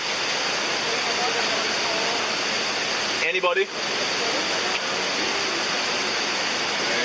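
Water runs down into a supply pipe in Dominica, a steady broadband rush like a small waterfall that fills the whole clip, with a brief voice cutting in near the middle.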